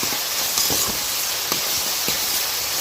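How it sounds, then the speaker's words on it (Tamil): Onions sautéing in a pan for crab curry, a steady close sizzling hiss with faint clinks from stirring. "இப்போ இங்கே நல்லா வெங்காயம் நல்லா வதங்கணும்."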